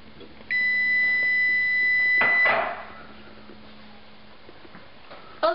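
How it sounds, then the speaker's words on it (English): A loud, sustained electronic tone sounds for about two seconds, then stops abruptly, followed by quiet ticking and faint background noise. "Once you've heard the buzzer go off, turn off your oven"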